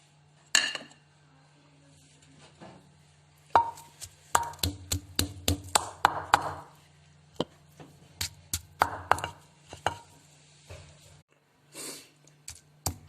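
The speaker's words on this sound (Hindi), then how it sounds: "अदरक और हरी मिर्च मैंने इस तरह कूट ली है।" Ginger and green chili pounded by hand for beef kofta, a run of sharp, close impacts in irregular bursts with brief pauses, loud and without talk.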